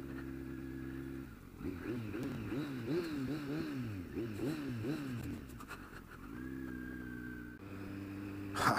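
A 2020 Kawasaki Z900 motorcycle is ridden through the gears, its engine note rising and falling in repeated revving swells, fairly close, with a rider's voice talking in parts of it.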